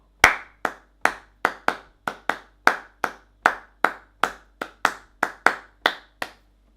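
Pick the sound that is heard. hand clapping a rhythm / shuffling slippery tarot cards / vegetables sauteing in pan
hand clapping a rhythm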